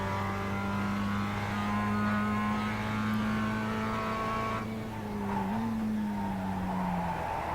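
A Mazda MX-5 slides through a turn, its engine holding a steady drone as the tires squeal in a long skid, the pitch dipping briefly mid-slide.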